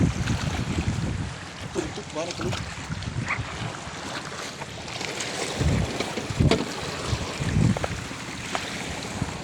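Fishing boats out at sea, returning from deep water near an island, heard with steady wind buffeting the microphone, broadband rushing noise and a few brief thumps and knocks.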